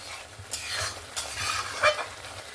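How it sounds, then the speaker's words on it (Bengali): Mustard spice paste sautéing in a pan with a splash of water while it is stirred: a close steady sizzle with rhythmic scraping strokes and one brief sharper clink near the end. "আমি এখানে সামান্য একটু মশলা ধোয়া জল দিয়েছি, এই মশলাটাকে কষিয়ে নিচ্ছি"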